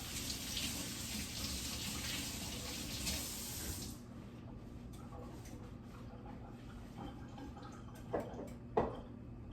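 A kitchen tap runs as meat is rinsed before flouring, a steady rush of water for about four seconds that then cuts off, followed by faint drips and small clunks.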